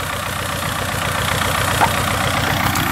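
A tractor engine idles during summer haymaking with a steady, close, low throbbing rumble whose even pulses repeat without pause and with no voices.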